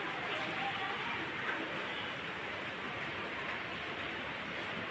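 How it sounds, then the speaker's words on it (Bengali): Heavy rain pours down outdoors in a steady, dense hiss with no let-up, loud and close throughout. "বৃষ্টি হচ্ছে, প্রচুর পরিমাণে বৃষ্টি।"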